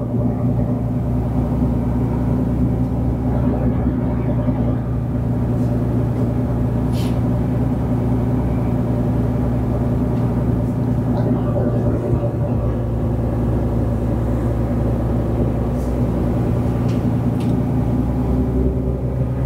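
Car driving home, a constant low engine and road rumble heard from inside the cabin, steady throughout with faint rattles now and then.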